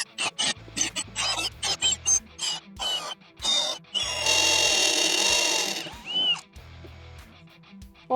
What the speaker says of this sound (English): I will just drill down through the template to ensure the drill doesn't run off here